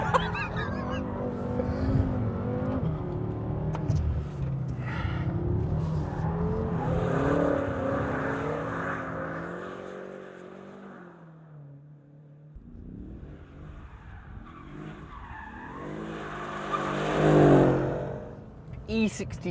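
A Mercedes-Benz E63 AMG S driven hard and oversteering, its engine note rising and falling loudly through the cabin with a surge near the end and a brief lull midway.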